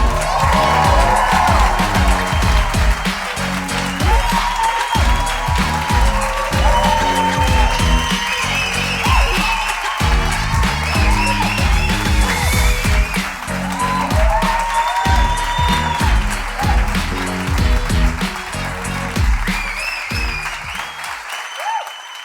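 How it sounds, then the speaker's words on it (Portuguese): A live comedy audience greets comedian Guilherme Fonseca as he takes the stage, loud sustained clapping mixed with cheers and whoops, with a thumping beat underneath before it cuts off at the end. "recebam com um forte aplauso Guilherme Fonseca!"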